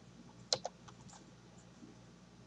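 Fingers type on a computer keyboard, a sharp pair of clicks followed by a few faint, scattered keystrokes over a low room hum, quiet and close with no speech.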